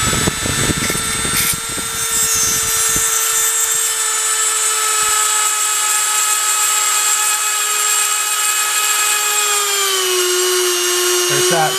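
A small drill grinds out rivets on a 1:64 diecast model car with a steady high-pitched whine, loud and close, after a few scraping bites at the start, with the pitch dipping near the end.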